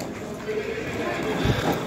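Horses at the Sokuluk horse market, with hoof clops and a brief whinny heard close by over general crowd noise while people talk nearby.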